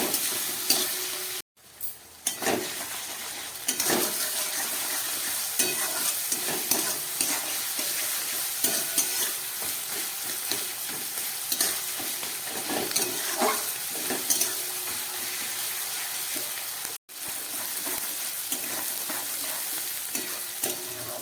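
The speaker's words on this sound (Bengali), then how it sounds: "এবার এই পেঁয়াজটাকেও খুব ভালো করে আমি ভেজে নিচ্ছি" Onions frying in hot oil in a home kitchen pan, a continuous loud sizzle broken up by repeated scraping strokes of a spoon stirring them, with two brief gaps where the sizzle drops out.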